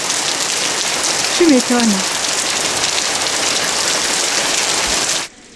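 Heavy rain pours down outside, a loud continuous roar of drops on surfaces heard from indoors, with a woman's brief remark over it before the sound cuts off abruptly.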